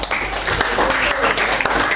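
A classroom group claps together in a dense, loud burst of applause that fills the whole stretch without pause.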